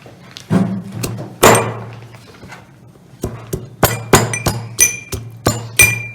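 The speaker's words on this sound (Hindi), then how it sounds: "अब इसी खरर में हम ये अपनी अदरक डाल के इसको हम कुचला करेंगे" Fresh ginger is pounded in a mortar, struck again and again with sharp, close knocks. Early blows come slowly and unevenly, and a quicker series of hard, ringing hits follows.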